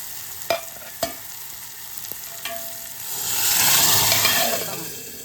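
Toor dal hit with a hot green-chili tempering for varan: a few sharp clicks and pops, then a loud hissing sizzle swells up, peaks and slowly settles, with no voices.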